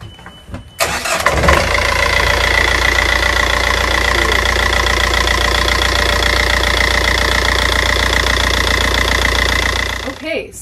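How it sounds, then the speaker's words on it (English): A Jeanneau Sun Odyssey sailboat engine cold-starts, cranking and catching, then runs at a steady, loud idle with a rough, knocking rumble for several seconds before cutting off near the end. "And Farron is going to give us a cold start."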